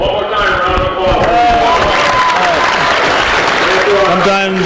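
Crowd applause in a gym at a high school boys' basketball game as cheerleaders come out, loud steady clapping with cheering voices and talk mixed throughout.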